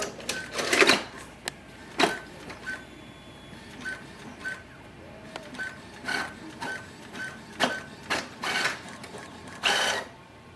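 Brother MFC-J4535DW inkjet printer printing a nozzle check sheet, with repeated mechanical whirs and sharp clacks of the carriage and paper feed at irregular intervals, close and alone.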